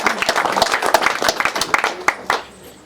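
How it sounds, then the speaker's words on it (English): A room at a fundraiser bursts into applause for a candidate, a dense patter of many hands clapping close by that tapers off after a couple of seconds. "Round of applause for Anu."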